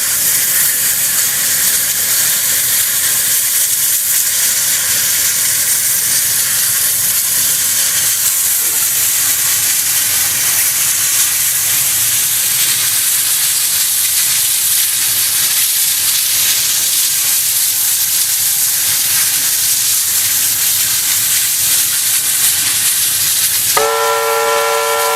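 A pair of Chinese QJ steam locomotives climbs the last of the hill at Shangdian heading east, a loud, continuous roar of hissing exhaust and rolling stock, with a short horn blast near the end.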